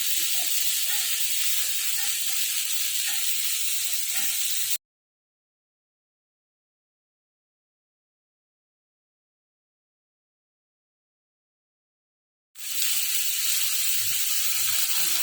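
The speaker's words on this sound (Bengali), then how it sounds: "ভাজা ভাজা হচ্ছে" Okra spice mix frying in a pan hisses and sizzles up close, cutting out completely for several seconds in the middle before the steady frying resumes.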